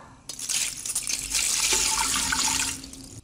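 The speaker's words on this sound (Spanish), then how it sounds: "Vamos a incorporar el agua." Water is poured steadily into a pressure cooker holding a mold for anise liqueur flan set on small glass cups, a continuous splashing stream lasting a few seconds.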